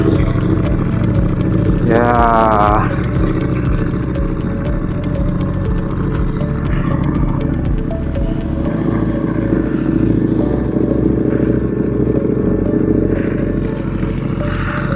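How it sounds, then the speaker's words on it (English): A Ducati Panigale V4 SP2 superbike roars continuously up close, its loud engine droning steadily with one quick rising rev burst near the start and wind buffeting throughout. "相変わらず爆音だな、このバイクは。"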